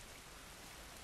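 Steady, dense rain hiss from The Last of Us video game, a constant broadband wash without pauses for the whole second, fairly quiet and with no voices over it.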